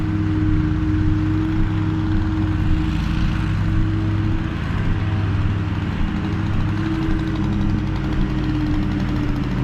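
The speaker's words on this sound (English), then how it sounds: "Everybody's mowing their properties today. It's like a symphony of lawnmowers." Several lawnmowers drone at once around residential properties in Lewiston, Maine, making a continuous, steady engine hum from moderately far off. The sound is dense and unbroken, with no talk.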